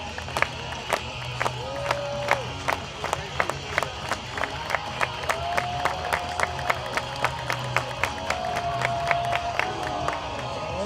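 A crowd at a shot put competition cheers and claps in a steady rhythmic beat, sharp handclaps ringing out at regular intervals over a loud murmur, with drawn-out shouted calls rising above it now and then.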